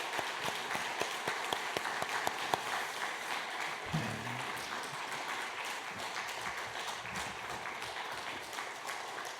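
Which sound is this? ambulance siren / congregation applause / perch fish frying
congregation applause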